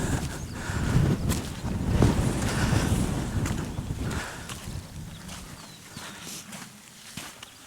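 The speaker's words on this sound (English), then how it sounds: "lots of wind as well" Wind gusts across a rocky moorland summit on Kinder Scout, near the Woolpacks rocks, a loud, broad rumble that buffets the microphone for several seconds before easing to a quieter, steadier rush.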